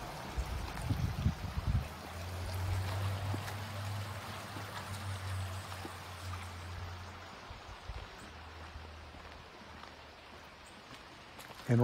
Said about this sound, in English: There's a little brook or stream that goes by here.